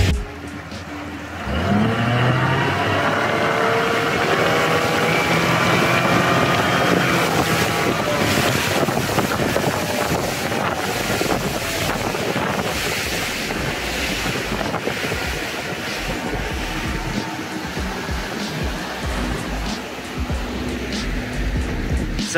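A Honda BF150 outboard motor drones steadily under throttle beneath heavy wind buffeting and rushing water, loud and continuous throughout.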